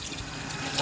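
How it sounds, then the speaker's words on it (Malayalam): Water poured from a well bucket into a cooking pot in a village kitchen: a short, soft splashing pour of liquid, fairly quiet and close, with no talk. "വെള്ളം ഒഴിച്ചു കേട്ടാ."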